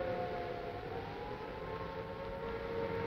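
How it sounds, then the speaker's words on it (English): An air raid siren during the Second World War holds a steady, sustained tone over a continuous rumble of London traffic near Trafalgar Square, moderately loud and without speech. "I'll just let you listen to the traffic and the sound of the siren for a moment."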